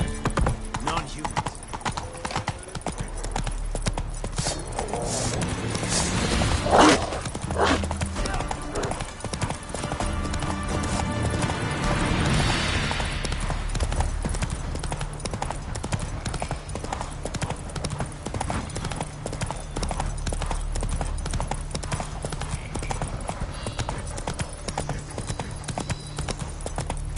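Rhythmic hoofbeats of the horse Roach galloping in The Witcher 3 video game, a steady fast clip-clop running throughout with a brief whinny early on, loud and close against ambient game sound.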